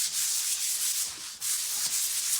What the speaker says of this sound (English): I'll take my little sanding sponge and I'll just rub over it